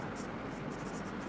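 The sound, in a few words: writing the word medicine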